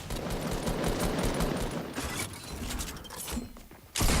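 Fortnite gunfire during a competitive match, rapid continuous sprayed shots with clattering mechanical noise, dense and loud, ending in a sudden sharp burst.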